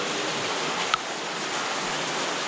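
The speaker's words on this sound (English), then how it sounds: "We're right over here at the flowing water. This is a natural spring." A natural spring pours as a small waterfall inside a cave in the Bristol Caverns, making a constant, even rushing hiss up close, with one tiny click partway through.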